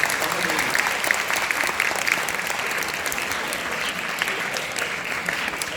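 An indoor audience applauds steadily at a lecture event, a dense, sustained wash of many hands clapping at even loudness for several seconds, with no speech over it.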